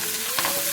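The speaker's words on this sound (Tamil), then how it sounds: "ஆனியன் பாருங்கள் நல்லா வதங்கி வந்துருச்சு" Onions with turmeric sizzle steadily in a pan, a close, constant frying hiss with a brief stirring scrape partway through.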